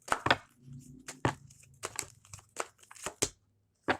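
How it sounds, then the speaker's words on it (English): Angel therapy oracle cards being pulled from a deck, heard as close, crisp crinkling and slapping bursts at an irregular pace, with no talking. "I'm being called to pull these angel therapy oracle cards."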